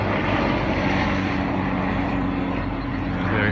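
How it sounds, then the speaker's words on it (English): A loud, steady helicopter roar drones overhead, a broad rushing rumble that holds constant without pause and with no voices. "Oh, helicopter. Not LAPD."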